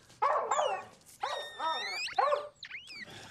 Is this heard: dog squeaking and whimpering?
yes